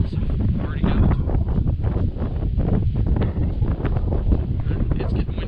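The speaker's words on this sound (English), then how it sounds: "It's getting windy and chilly" Strong wind blows across the microphone outdoors in rural Maine, a steady loud buffeting rumble with gusty rustling throughout and no clear talk.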